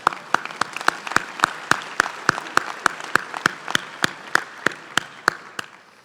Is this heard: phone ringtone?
no